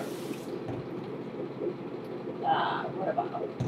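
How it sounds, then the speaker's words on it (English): Very cold water poured into a water bottle at home, a soft splashing trickle that rises briefly near the end, heard beneath steady talking. "I'm gonna use some really cold water and put it in here."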